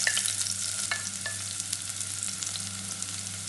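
Onion and garlic sizzling in hot oil for chicken feet adobo, a close, steady crackling fry with light scraping as the pan is stirred.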